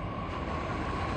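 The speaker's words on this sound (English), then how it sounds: "She takes the metro every day." Metro train in Gurgaon, India: a steady, continuous rumble of rail travel with a faint high whine, heard from inside or close by, with no talk.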